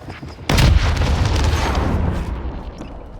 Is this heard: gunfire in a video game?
yes